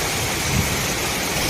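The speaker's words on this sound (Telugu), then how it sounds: "అక్కడి నుంచి పడే వాటరు ఎంత పొగలాగా వెళ్తుంది చూడండి." Roaring spray from the Tarabu and Pittalaborra waterfall, a steady, full broadband wash of falling water close by, unbroken for the whole stretch with no voices.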